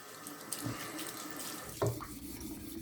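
Water trickles and splashes while hones are flattened on wet silicon carbide sandpaper set on glass. It is a quiet, continuous running sound with a brief louder splash near the end.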